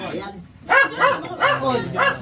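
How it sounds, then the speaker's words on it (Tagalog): A dog barks repeatedly in loud, rhythmic bursts, four or five barks close by, with a little background noise between them. "Ingay nung aso."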